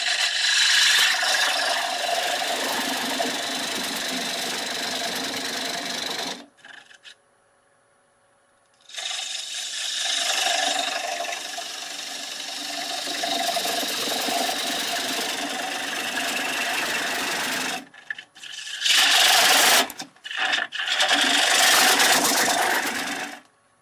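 A 3/8 inch bowl gouge cuts into a wooden bowl blank spinning on a lathe, giving a loud, steady rasping scrape in long passes broken by short pauses and a few quick bursts near the end.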